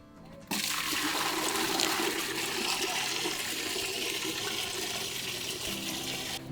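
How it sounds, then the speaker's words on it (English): A toilet in Quito, Ecuador flushes with a sudden loud rush of water that churns steadily for several seconds, close by and unaccompanied. "And now let's see what happened when we flash the toilet in the north."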